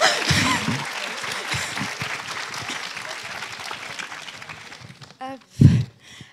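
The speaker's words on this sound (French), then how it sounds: "Oui, vous pouvez les applaudir effectivement." A studio audience at a French talk event on New Romance fiction gives a steady round of applause that fills most of the clip, then fades into a brief burst of voices near the end.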